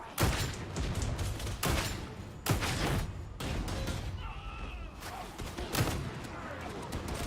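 Gunfire in Warhammer 40k Darktide, a dense barrage of loud, sharp shots and blasts in repeated bursts through a chaotic firefight, with voices shouting over the combat.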